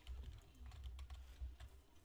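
Quiet, rapid clicking of keys being typed on a computer keyboard, irregular taps in quick succession with no talking.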